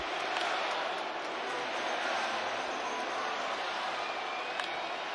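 A stadium crowd at the MLB Home Run Derby produces a steady, broad roar of cheering that holds at an even level from start to finish, with a commentator talking over it.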